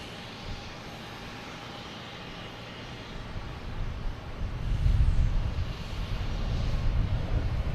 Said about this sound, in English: We'll get this takeoff here